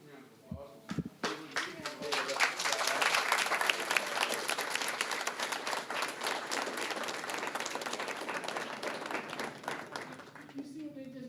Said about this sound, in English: We recognize you, give you a round of applause.